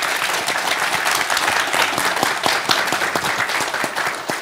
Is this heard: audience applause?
yes